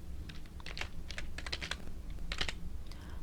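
Fast typing on a computer keyboard while entering text in an Excel spreadsheet, with close, crisp key clicks in quick irregular bursts and short pauses between them.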